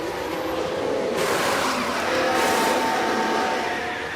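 A McLaren Formula 1 car makes a pit stop at Monaco in F1 Manager 2024, a steady, loud, close wash of engine and mechanical noise that swells slightly after the first second and holds to the end, with no voices.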